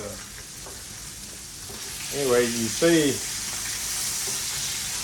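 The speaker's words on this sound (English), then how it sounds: "you want to cook this nice and slow in your hot oil" A steady hiss of frog legs frying slowly in hot oil, constant and close, briefly interrupted by someone speaking a few words.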